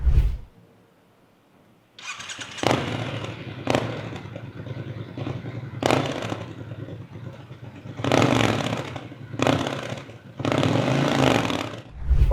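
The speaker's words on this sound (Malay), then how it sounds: "daripada moment korang start engine motor ni, korang akan tahu dengar bunyi initial bunyi tu, bunyi awal tu" A Triumph Scrambler 1200X motorcycle engine fires up and runs close by, with a rough idle broken by several sharp revving bursts that rise and fall, and no talking.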